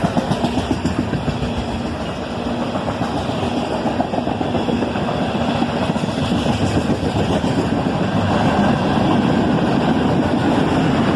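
A CSX southbound manifest freight led by two ES44AC locomotives, with tank cars in its consist, rolls by up close with a steady, loud rumble and rhythmic clatter of wheels over rail joints, growing slightly louder toward the end.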